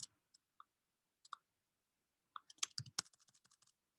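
Sparse, hesitant keystrokes on a computer keyboard, a few isolated clicks followed by a quicker cluster of taps near the end, close but quiet, with no talking.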